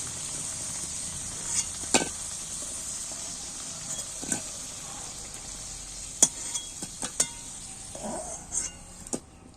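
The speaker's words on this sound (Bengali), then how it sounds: "আলুটা আমার লাল লাল করে ভাজা হয়ে গেছে" Potatoes deep-frying in oil until reddish brown give a high, hissing sizzle that runs throughout at low level, broken by scattered sharp clinks and scraping knocks of a utensil against the pan.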